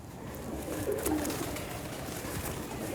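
Salaray teddy pigeons, currently molting, give a soft, low coo in a short phrase against a steady background hiss, with no one speaking.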